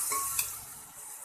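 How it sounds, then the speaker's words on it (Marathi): Green chili, ginger and garlic paste with a pinch of asafoetida sizzles quietly in hot oil while a spoon stirs and scrapes the pan, with a couple of brief metallic taps. "आणि चांगलं परतवून घेऊया तेलामध्ये."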